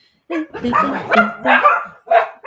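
Dogs bark and yip in a room, several quick close barks in rapid bursts with short pauses between them.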